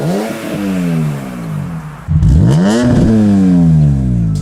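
A BMW E46 M3 exhaust revs loudly twice, rising and falling in pitch with a raspy, throaty edge, the second rev louder and held longer.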